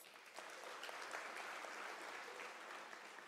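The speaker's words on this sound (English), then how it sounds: "I think he deserves a round of applause." A full audience applauds at a university autumn graduation ceremony, an even wash of many hands clapping at a moderate distance, with no voices over it.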